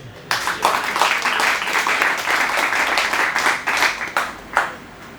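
A full round of audience applause at an open mic poetry show, dense hand clapping that starts abruptly, holds steady and loud for several seconds, then thins into a few final claps.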